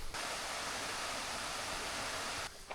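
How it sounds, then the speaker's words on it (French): Mountain stream flowing below a wooded trail on Canigó in the Catalan Pyrenees, a steady, dense rushing wash of water heard from a short distance, continuous and alone before it drops away at the end. "On entend le ruisseau juste en bas."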